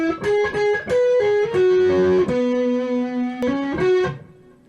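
A distorted electric guitar plays a quick lick, several fast picked and bent notes ringing into a sustained held note before a final short phrase, loud and alone.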